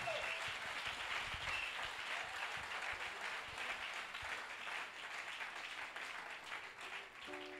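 A church congregation applauds in praise, a dense, steady wash of many hands clapping that continues throughout at moderate loudness.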